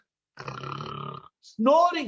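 A voice imitates snoring with a drawn-out rasping inhale, a short pause, then a louder rough snort, close and dry.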